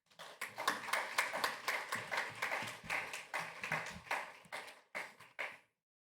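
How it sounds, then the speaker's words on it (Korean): Applause welcoming a university president at a chapel service: a modest crowd claps in a clear, rapid rhythm of distinct hand strikes, quiet and somewhat distant, tapering into a few last claps before stopping. "우리 총장님 나오실 때 다시 한번 뜨거운 박수로 환영하도록 하겠습니다"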